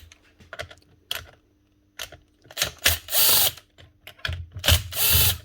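Screws being worked out of the body of a Makita 3620 router damaged in a fall: bursts of short whirring drill runs and ratcheting clicks, separated by quiet gaps, close and fairly loud with no talk.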